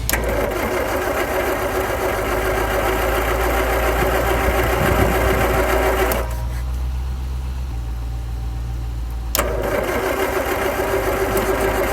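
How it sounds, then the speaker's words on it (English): Land Rover Series 3 engine cranking over on a jump start, a loud continuous mechanical churn that cuts out abruptly for a few seconds and then resumes, close and steady. "Okay, so it's been turning over."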